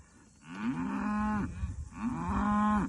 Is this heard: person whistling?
no